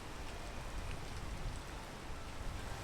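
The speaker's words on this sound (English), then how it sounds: "Oh, it's raining." Rain falls steadily in a video game, a dense, even patter and hiss of drops on surfaces with a soft rumble, continuous and without talk.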